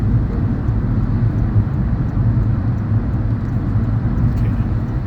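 A car engine drones steadily and close by as the learner vehicle accelerates during a driving lesson on UK roads with roundabouts and dual carriageways, a continuous low rumble with no speech over it.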